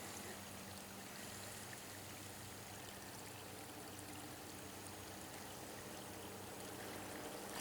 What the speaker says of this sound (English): It's coming down the waterfall.